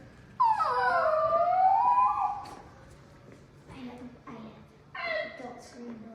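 A puppy lets out a long, loud, rising-and-falling howl up close, then breaks into shorter whimpers and yips, with people speaking quietly over the later cries.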